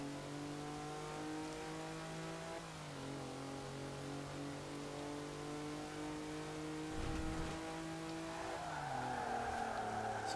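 Pickup truck engine in Forza Horizon 4 revs steadily and climbs through gears, each upshift marked by a dip in pitch, with a louder burst of throttle near the end; no talking.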